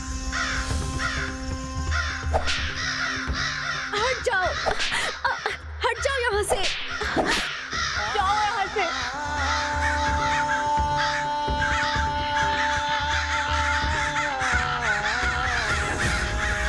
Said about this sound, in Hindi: इस काग समूह को यहाँ से हाँक कर दूर करने वाली